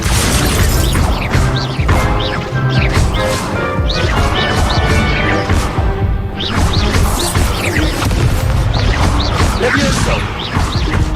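Spell-casting effects from the video game Hogwarts Legacy, with repeated loud crashes, whooshes and magical bursts packed densely together, under occasional talk.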